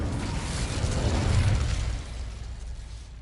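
An Incendio fire spell cast in Hogwarts Legacy, a loud roaring whoosh of flame that swells, peaks and then fades into a softer rumbling tail, with no voice over it.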